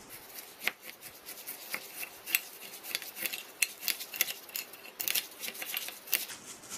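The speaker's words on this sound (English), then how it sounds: "use 1/8 cup of water and mix it all together" Grainy rustling and scraping as rice grains are stirred with food coloring and a little water, continuous with small irregular bursts, close up.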